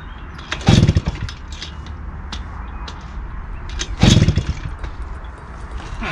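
A TVS-Suzuki Eko Vmatic moped with a reed-valve intake and a faulty carburetor is kicked over twice in attempts to start it, giving two loud bursts of engine cranking over a steady mechanical rumble, with no clean idle following.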